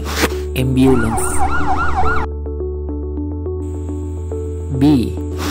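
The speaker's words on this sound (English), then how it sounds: "Ambulance." A cartoon-style ambulance siren wails loudly in rising and falling sweeps over a bright musical backing. It returns briefly near the end.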